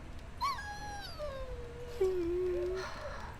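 A dog whimpers in the video game Dragon Age Origins, giving a few close, high, drawn-out whining cries that slide downward, with a longer nasal whine near the end.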